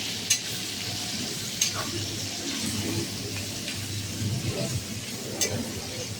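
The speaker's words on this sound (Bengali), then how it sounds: "এবার ওই তেলের মধ্যে দিয়ে দিলাম লঙ্কা, 2টো পেঁয়াজ একসাথে" Green chilies and two onions frying together in hot oil, a steady sizzle at moderate level with occasional stirring clinks, nearby pigeons faintly cooing in the background.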